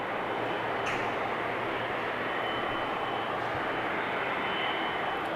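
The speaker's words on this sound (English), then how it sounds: "China Southern just coming in, which landed on the 18 center" China Southern airliner landing at Amsterdam Schiphol Airport, heard as a steady, broad engine roar that stays constant throughout with no speech.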